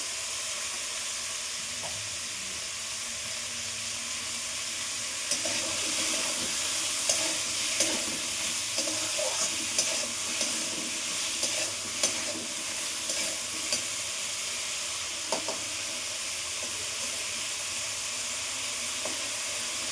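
Food sizzles steadily in a hot pan while being stirred for a Bengali egg poppy-seed curry, with scattered scraping and clinks of the utensil over a constant frying hiss.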